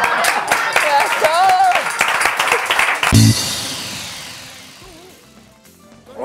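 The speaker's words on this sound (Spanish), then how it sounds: "Un aplauso, ¿no?" A studio audience on a Spanish TV talk show claps steadily under a talking voice, then swells into a brief burst of applause that fades away over several seconds.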